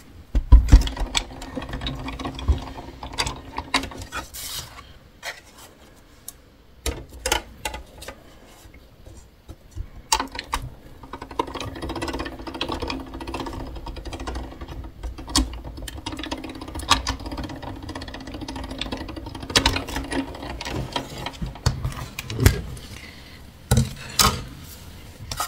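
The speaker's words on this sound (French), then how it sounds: "On reprend du coup la machine de découpe." Die-cutting machine being hand-cranked during a scrapbooking craft project, giving a steady run of mechanical clicks, ticks and rolling rumble up close, with brief pauses between passes and no talking.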